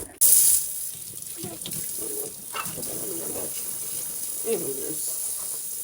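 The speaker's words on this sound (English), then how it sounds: "Gonna have to wash the rice maker real fast." Tap water runs steadily into a kitchen sink while a rice maker is washed, a continuous splashing gush with some clatter of the pot, nearby and fairly loud throughout.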